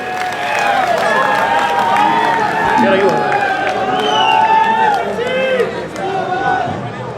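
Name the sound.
crowd applauding to welcome a politician at a rally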